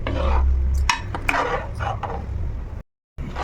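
A ladle stirs tamarind fish curry in a pot, producing a few scraping, sloshing strokes close up, briefly cutting to silence near the end.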